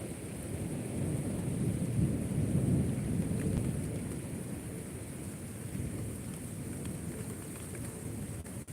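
An evening thunderstorm pours steady, loud rain while low thunder rumbles almost continuously underneath. The hiss and roll of the storm fill the whole stretch with no voices.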